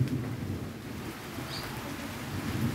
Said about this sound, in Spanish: Está lloviendo, está lloviendo.